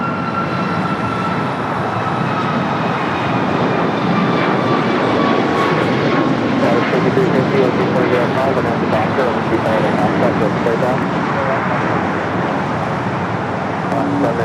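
Airliner traffic at Los Angeles International Airport, with a steady loud jet roar that swells and holds throughout, overlaid by high engine whine tones and chatter from people talking nearby.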